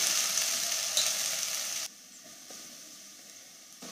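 Egg bhurji sizzles steadily in a pan on a medium flame, a close frying hiss that drops abruptly to a quieter sizzle partway through.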